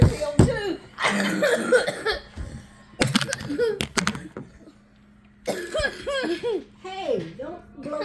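Hard coughing fits from a girl, harsh repeated bursts in uneven clusters, close by, mixed with laughter and voices of friends chatting around her.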